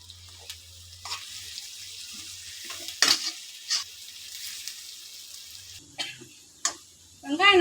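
Onion, green chilli, garlic and curry leaves fry in a pan with a low sizzle, broken by intermittent scrapes and clinks of a spoon stirring, ending in louder bursts of clatter.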